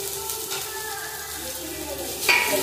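Chopped onion and garlic fry in a pan with a steady, close sizzle and a slight stirring scrape near the end.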